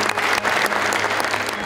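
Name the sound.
audience applause for a medal recipient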